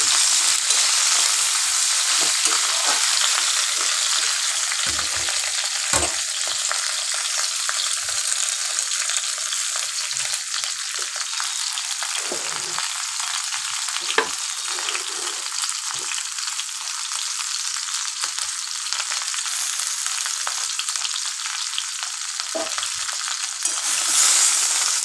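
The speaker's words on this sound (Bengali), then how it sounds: "তাই আমি এটাকে একটু শ্যালো ফ্রাই করে নেব।" Okra shallow-fries in a pan with a continuous loud hiss and crackle, close up, with occasional stirring knocks over about twenty-five seconds.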